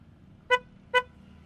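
Two short, sharp beeps from a car horn, about half a second apart, as a 2025 Citroen Basalt unlocks by remote.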